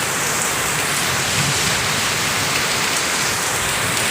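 Water gushes down a drain during a downpour in a continuous, loud, dense rushing splash, steady from start to end with no voices.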